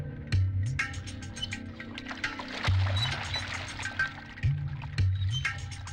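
Water scooped by hand from a village well and splashed back, a few distinct pouring gushes and trickles at a steady pace, close and moderately loud with no voices.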